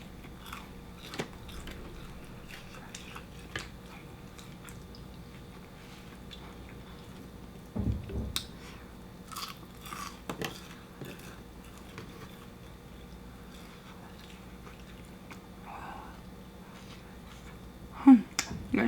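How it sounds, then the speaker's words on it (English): A person chews spicy pork belly during a mukbang, giving sparse, faint wet clicks and soft bites scattered across a quiet room, with a few louder chomps near the middle and end. "When I can't chew with my mouth closed anymore,"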